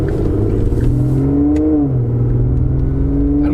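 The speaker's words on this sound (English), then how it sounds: "V12 from Aston Martin." A flagship Aston Martin Vanquish V12 engine revs steadily and loudly up close, its pitch climbing smoothly, briefly dipping, then holding a strong, continuous drone with no voices.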